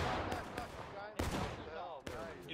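Musket gunfire from Civil War–era rifles in the War of Rights video game: several sharp, loud cracking volleys in quick succession, each with a rolling echo tail.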